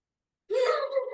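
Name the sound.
deep breath drawn in during breathing exercise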